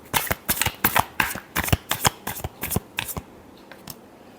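A deck of tarot cards is shuffled by hand in quick, rhythmic riffles, about a dozen crisp, close bursts that slow and fade out toward the end.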